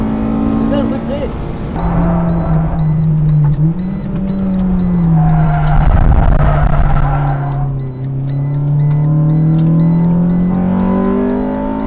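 A 2023 Honda Civic Type R driven hard, its engine droning steadily with rising and falling revs and shifts, loud and close throughout, with tyre and road noise and people talking over it.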